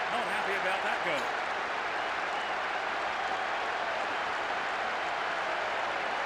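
A stadium crowd in the PES 6 video game murmurs and applauds after a goal, a steady wash of noise with brief commentary at the very start.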